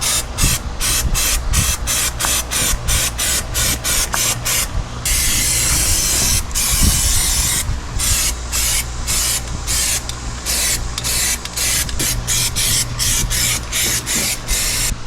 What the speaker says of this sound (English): I'm going to use the Rust-Oleum undercoating. It's a rubberized black